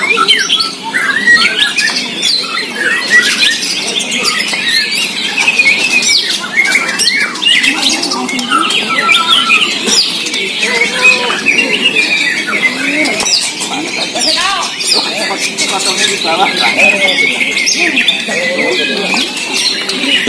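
White-rumped shamas (murai batu) sing at a bird contest, a dense stream of bright chirps, whistles and squawks running steadily throughout with crowd chatter mixed in underneath.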